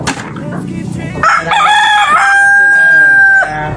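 A rooster crows loudly and close by, a long strained call rising and holding a high sustained note for about two seconds before cutting off, after rustling background.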